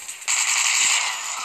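Rapid gunfire from the mobile shooter game Dead Trigger as zombies are shot, a dense crackling burst that starts abruptly and holds steady and loud to the end.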